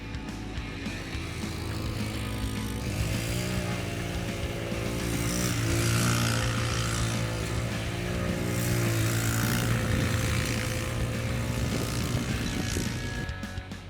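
The engine of an Activator quad ATV under way, a continuous droning roar that swells and eases as it drives, heard close and fairly loud with no talk.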